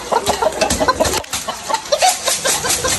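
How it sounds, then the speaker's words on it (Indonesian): Chickens in a rooftop garden in Sunter cluck nearby in quick, irregular bursts, fairly loud and close, with some background noise. "Oh, ayam juga ada tuh."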